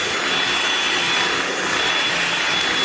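A Karcher VC Series 4 vacuum cleaner runs at its second speed on linoleum, giving a loud, steady whooshing roar with a thin high whine and no pauses or speech.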